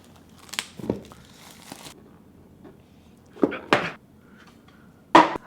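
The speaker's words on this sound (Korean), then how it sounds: "오랜만에 칼로 언박싱 하는데요." A Logitech G Pro X Superlight mouse box opened with a knife, sharp isolated crinkles and tearing cuts of packaging in short bursts separated by quiet pauses.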